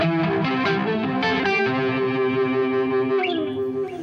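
Electric guitar chords through a Uni-Vibe-like phaser pedal, with a swirling, warbling wobble, steady and loud, ringing on alone.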